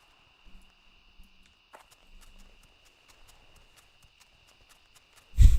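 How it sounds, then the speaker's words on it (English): Character footsteps tread through quiet outdoor ambience in World of Warcraft, a run of soft, evenly spaced steps over a faint steady insect-like hum, ending in a sudden louder rustle. "My footsteps are taking over."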